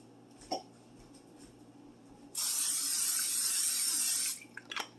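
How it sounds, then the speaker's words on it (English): A steady hissing spray from an aerosol can of butter spray lasts about two seconds, followed by a few small clicks and taps close by. "I'm going to spray it with butter spray a couple times around."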